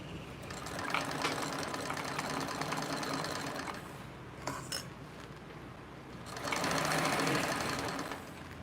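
A sewing machine stitches in steady close bursts with a rhythmic mechanical whir, pausing briefly midway before a louder run resumes.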